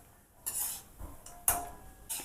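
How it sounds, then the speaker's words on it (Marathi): Dried turmeric roots are roasted and stirred in a pan over a low flame, producing several sharp scraping and clinking strokes of a utensil against metal at irregular intervals over a faint background. "हळकुंड टाकताना जपून भाजायचे"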